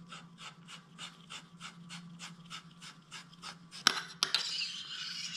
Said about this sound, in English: simply undo your shroud